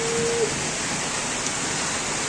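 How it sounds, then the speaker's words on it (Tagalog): Rain falls steadily in the Philippines as a continuous, even hiss, with no speech. "Tapos, eto, maulan ulit."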